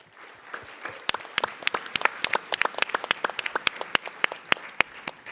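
Audience applause at a tech conference talk, a dense run of sharp hand claps carrying steadily across the room for several seconds, with no voices over it.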